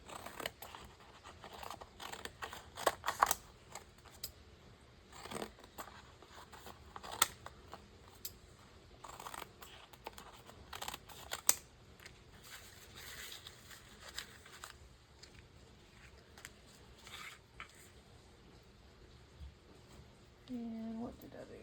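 Quiet snips and rustles of scissors trimming the title off a book page, an irregular series of close, soft cuts and paper handling throughout.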